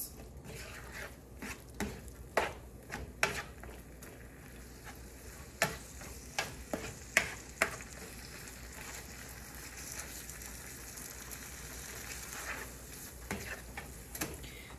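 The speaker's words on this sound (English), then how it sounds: "So you can hear it starting to sizzle again" Seasoned ground beef for beef enchiladas sizzles steadily in a pan at low level, with scattered sharp clicks and taps of stirring breaking through the soft frying hiss throughout.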